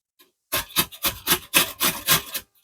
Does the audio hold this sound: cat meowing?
no